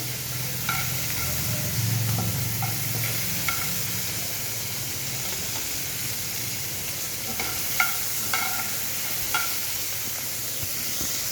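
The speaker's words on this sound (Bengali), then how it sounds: "আমার চিকেনগুলো ভাজা হয়ে গেছে" Chicken pieces fry in a pan for egg chicken chow with a continuous close sizzle, and a utensil scrapes and taps against the pan at intervals.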